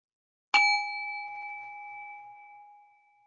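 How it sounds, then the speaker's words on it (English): A single meditation bell is struck once, ringing out clear and pure with a long, steady sustain that slowly fades in a quiet room. "I'm going to go ahead and ring the bell."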